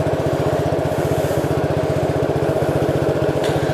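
A 1969 Gravely 430 tractor engine runs steadily at idle, its rapid even putter loud and close throughout with no talking.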